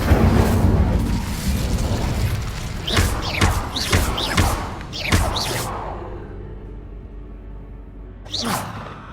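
An Incendio fire spell is cast in Hogwarts Legacy as a rumbling fiery burst, followed by several quick magical whooshes and thuds that fade into a quieter tail. A final swish comes near the end.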